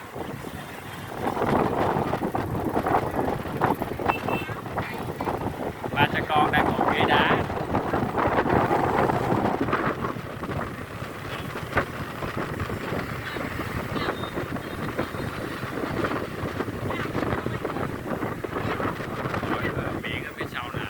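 Sea wind blows steadily at night on a beach, a broad continuous rush with gusts, while people talk nearby throughout.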